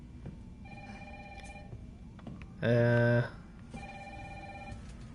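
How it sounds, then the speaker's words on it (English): An in-game telephone in Resident Evil 3 rings once with a loud, bright electronic trill lasting about half a second, set against a soft synth music bed, with a brief spoken word before it. "that a phone?"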